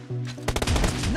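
A short burst of rapid gunfire in a PUBG Mobile team deathmatch, several close, loud shots following a brief tonal game sound.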